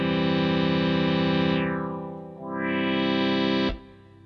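A sustained synth pad from a Retroaktiv MPG-50 synthesizer: a rich, buzzy held chord whose brightness sweeps down, then back up, before cutting off abruptly, played alone.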